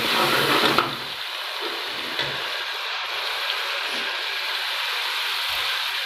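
Aloo matar curry cooking in a pan gives a steady, soft sizzle throughout, with a brief louder burst at the very start and a few faint clinks.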